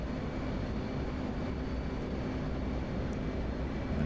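Steady, close aircraft engine roar from a jet flying low over the ground in DCS multiplayer, a continuous broadband drone that holds at even loudness throughout with no voices over it.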